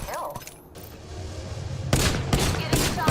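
Bursts of rapid gunfire in Apex Legends, loud crackling volleys that come and go over a steady background, with a voice talking faintly underneath.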